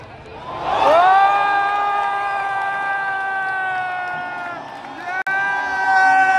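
A large crowd at an India versus Bangladesh cricket match roars and cheers in a loud, sustained swell that holds for several seconds, with some voices whooping through it.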